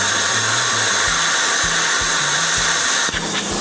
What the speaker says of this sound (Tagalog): 40 ampere yung setting ko sa plasma cutter or machine.